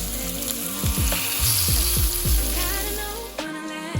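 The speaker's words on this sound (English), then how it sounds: "go ahead and drop those ribs in the pan. We want to go ahead and sear all sides of these babies" Beef short ribs searing in avocado oil in a pan, a bright continuous sizzle with a few clunks and scrapes of the meat being placed and moved, close and fairly loud.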